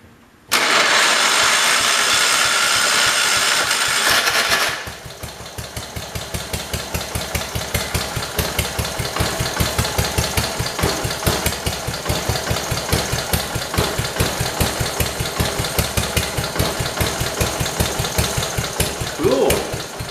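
A Kohler engine on a 1968 112 tractor cranks with a steady whirring starter for a few seconds, then catches and settles into a loud, even, rapidly pulsing idle that runs on close by.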